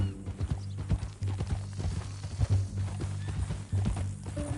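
Horse hooves clip-clop at a walking pace in Red Dead Redemption 2, a steady rhythm of fairly close hoofbeats, with a low hum underneath.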